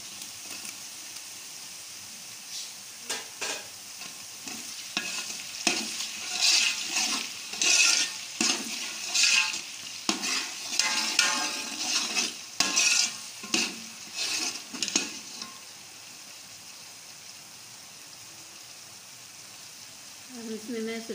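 Tomatoes go into a pan of frying chilli-vegetable masala and are stirred, giving bursts of scraping and sizzling with irregular clattering strokes against a steady hiss, then quieter frying near the end.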